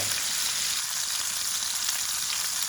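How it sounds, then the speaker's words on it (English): Chicken pieces for Goan chicken cafreal searing in a hot pan, a steady, close, continuous sizzle and frying hiss with no talk. "You put this in and just allow it to sear for a good 5 minutes on one side"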